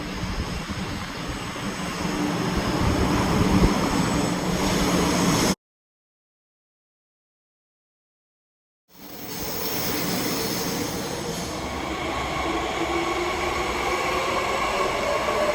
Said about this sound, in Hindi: तो ये देखो ये पहाड़ी तो है भाई, हैं, जहाँ बुलेट ट्रेन भी चल रही है।